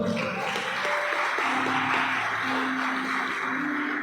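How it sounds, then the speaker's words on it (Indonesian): Congregation at an Easter service in a church clapping together in a steady, dense roar that fills the whole moment, with faint sustained musical tones running underneath. "Tepuk tangan yang paling meriah buat Tuhan."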